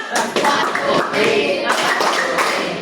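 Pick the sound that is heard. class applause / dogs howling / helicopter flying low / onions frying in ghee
class applause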